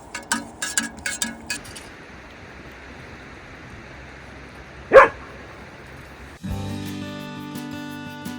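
Excited dogs bark in a short burst of yips and barks at a desert campsite in Wilson Canyon, Nevada, one morning, followed by a sharp clink and a steady hum of background noise.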